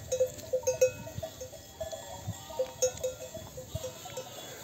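Bells clink and clank on a flock of sheep, including lambs and Merino stock, at a highland pasture. The ringing is irregular and moderately close, with low shuffling and animal movement underneath and no talking.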